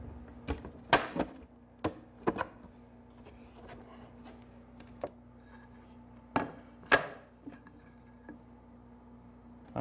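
A wooden back panel is slid into place on a small cabinet, producing a series of sharp wooden knocks and brief scraping rubs with quiet gaps between, close and fairly faint over a steady low hum.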